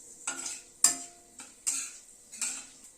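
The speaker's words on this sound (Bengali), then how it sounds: "ফোড়নটা একটু ক্র্যাক করিয়ে নিচ্ছি।" Whole spices, including fenugreek seeds, crackle and pop in hot oil in a kadai, with four sharp bursts of spitting at fairly even intervals, close and alone.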